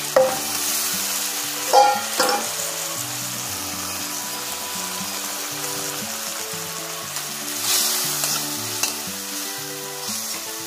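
Potatoes and flat beans fry in a pan for a Bengali fish curry, a steady close sizzle broken by occasional stirring scrapes, with soft music playing underneath.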